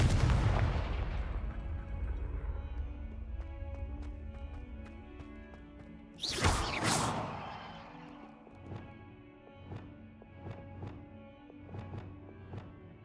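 Confringo fire spells blast in Hogwarts Legacy, one big whooshing burst midway after a fading rumble, followed by a string of sharp, evenly spaced impact pops.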